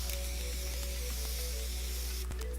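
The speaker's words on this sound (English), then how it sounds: "I'm going to go ahead and set my face with this Morphe setting spray." Morphe setting spray misted onto a face in makeup application, a steady close hiss over constant background hum with a brief sharper puff near the end.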